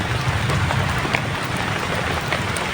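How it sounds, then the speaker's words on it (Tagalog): Steady rain falling and pattering on a surface, a dense continuous hiss with occasional louder drops, no voices. "Kasi kung ganito palagi yung ulan"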